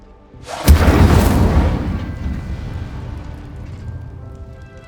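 An Incendio fire spell blasts in Hogwarts Legacy, a single sudden loud whoosh and boom that flares up, roars for about a second, then trails off into a long fading crackle and rumble.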